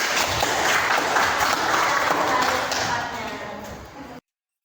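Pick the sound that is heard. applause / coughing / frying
applause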